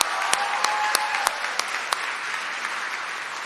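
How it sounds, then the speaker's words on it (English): A dense wash of audience applause fills a college commencement ceremony, with a few sharper individual claps standing out in a continuous, fairly loud roar that carries on steadily. "Let's give her a round of applause."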